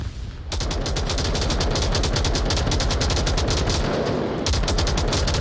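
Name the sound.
M249 box-mag machine gun shots in a video game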